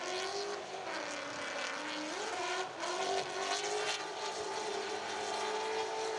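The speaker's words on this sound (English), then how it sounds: "Sounds like it's sporting a Chevrolet V8 engine in it." A Chevrolet V8 engine in a Nissan drift car roars steadily at a distance at a drifting event, its pitch rising and falling as the car revs, with no talking.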